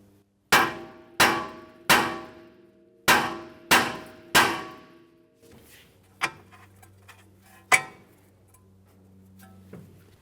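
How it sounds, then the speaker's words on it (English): Six sharp, ringing metallic bonks from a hammer striking the outer tie rod end of a 1994-1997 Honda Accord, evenly spaced and loud up close, followed by quieter scattered clinks and taps. "we'll give this a couple loving bonks to break it free"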